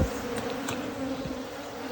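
A steady, close drone of many bees buzzing together, with individual insects whizzing past now and then.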